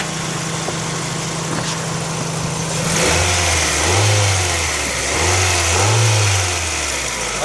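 A Honda CR-V engine is revved several times in a row, each rising and falling in a slow rhythm over a steady idle, heard close up with no talking.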